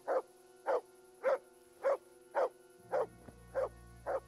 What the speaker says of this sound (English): What's that dog barking at?